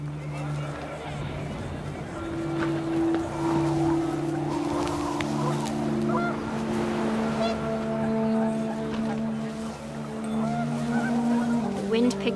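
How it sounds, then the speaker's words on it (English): Panicked geese honk in the video game What Remains of Edith Finch, their calls scattered over a steady windy wash and sustained background tones throughout. "The wind picked up and panicked geese appeared and quickly went."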